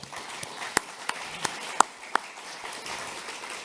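Conference audience applause in Singapore, a sparse scattering of distinct claps from a fairly small crowd with a few sharp louder hits, moderately distant and not building into a full ovation.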